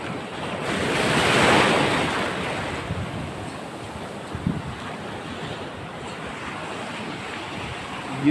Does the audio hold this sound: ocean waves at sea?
yes